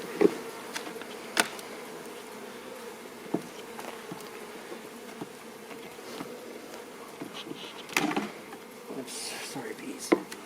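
Honeybees buzz in a close, steady drone around an opened hive. Sharper bursts come when individual bees fly near, and faint handling noises sit underneath.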